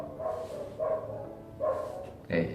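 Dogs bark in short bursts, four barks spaced out over a couple of seconds, fairly close, with faint background noise between.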